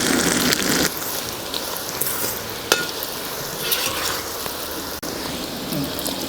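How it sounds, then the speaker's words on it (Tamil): Raw banana slices fry in oil in a pan, with a constant close hiss that is louder at first, then settles, marked by a few light clicks and spatters. "ஒரு பக்கமாக ஒரு 5 நிமிஷம் நல்லா ஃப்ரை ஆனோடனே அடுத்த பக்கம் நம்ம திருப்பிக்கலாம்"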